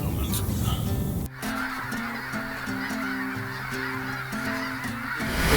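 Geese from a flock of waterfowl honk repeatedly as they fly in over a hunting spot, a layered chorus of overlapping calls in uneven bursts, fairly close and continuing throughout after a brief rushing noise at the start.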